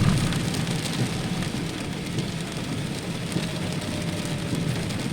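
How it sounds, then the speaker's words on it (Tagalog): Heavy rain pours steadily in Daet, a dense, constant hiss of downpour on surfaces with no voices, loud and unbroken throughout. "grabe, lakas ng ulan po dito sa Daet"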